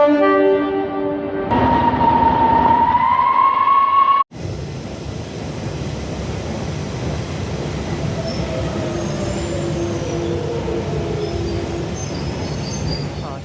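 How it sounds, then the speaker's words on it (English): A London Underground Central line train rumbles past nearby behind houses with a steady roar, metallic squeals and a sudden change in sound partway through, no voices. "easy to mark trains on the other side of these houses"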